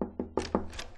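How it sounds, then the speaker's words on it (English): Knuckles rap on a door in the interactive video game Facade: a quick run of four or five crisp, close knocks, evenly spaced and alone. "I have to knock"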